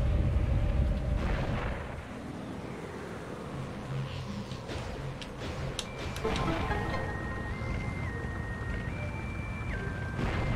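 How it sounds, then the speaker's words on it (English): A power bomb goes off in Metroid Prime with a deep, rumbling boom that fades into a lower drone, followed by sharp electronic blips and stepped tones from the game. "that's why you need to use another power bomb"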